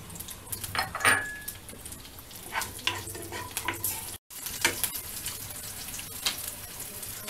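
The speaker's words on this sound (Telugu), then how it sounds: "ఆయిల్ హీట్ అయింది కదండి, ఆనియన్స్ హాఫ్ కప్పు ఇలా కట్ చేసుకునేది వేసుకుందాం మనం." Half a cup of chopped onions fries in hot oil for a veg Manchurian, giving a close, continuous sizzle broken by spatula scrapes and clinks against the pan, with no voices.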